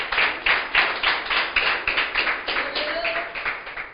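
A church congregation claps for the Lord during a sermon. Rhythmic, fairly loud group clapping beats in steady pulses, with a voice rising briefly among the claps.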